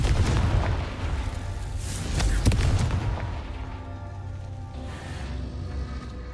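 Fiery blasting-spell explosions in the Hogwarts Legacy video game: heavy, booming bursts over a continuous rumbling roar, with the biggest crack near the middle before the blasts fade into a softer sustained rumble.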